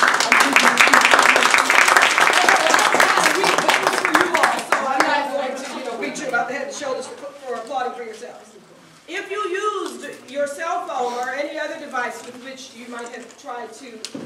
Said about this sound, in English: Give yourself a round of applause for